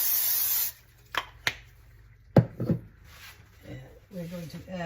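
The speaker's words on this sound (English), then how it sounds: "We're gonna give it a little spray." A short burst of cooking spray hisses onto a skillet on medium heat at the start, followed by a few clicks and knocks, then a voice begins speaking.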